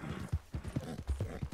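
Horse hooves in the video game Red Dead, a rapid clip-clop of galloping footfalls with irregular thuds, close and prominent.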